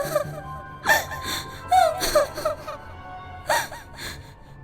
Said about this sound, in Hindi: चलते चलते उसे किसी के रोने की आवाज आने लगी